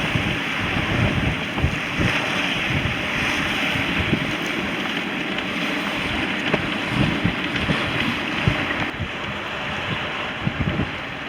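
Strong wind gusts buffet a sailboat running with a small furled genoa on the Sognefjord in Norway, a steady loud roar of wind noise and rushing water that persists throughout without any voices.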